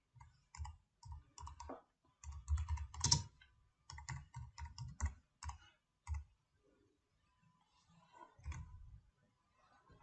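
Keys clatter on a computer keyboard as a search phrase is typed, coming in quick bursts of close, crisp clicks with short pauses between words and a longer lull near the end.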